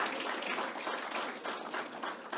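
Audience applause at a Toastmasters club executive officers' event, a dense steady patter of many hands clapping that fills the whole moment at an even, moderately loud level with no voices standing out.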